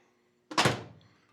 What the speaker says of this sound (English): and then we just close the door